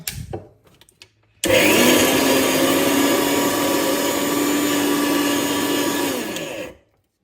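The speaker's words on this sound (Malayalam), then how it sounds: "അപ്പോൾ നമ്മളത് മിക്സിയിലൊന്ന് അരച്ചെടുക്കണം കേട്ടോ" A few clinks and thumps, then a loud steady whirring roar of a mixer grinder blending peri peri chili paste for about five seconds before it winds down and stops.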